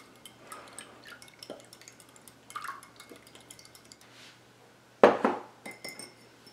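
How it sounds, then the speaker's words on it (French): An egg cracked and mixed in a bowl while making pie pastry: quiet, scattered clinks of utensil against bowl are followed by one louder knock and clatter, then more light tapping. "On casse notre œuf. On le mélange bien."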